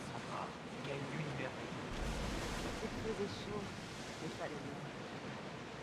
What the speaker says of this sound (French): Oh les vagues!